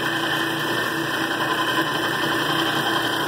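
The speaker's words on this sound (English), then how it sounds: "the start part of the motor is burnt out, so you got to start this one by hand" A sawmill motor runs after being started by hand, giving a steady, loud, continuous drone with a constant high whine and no change in pitch, close by with no voices.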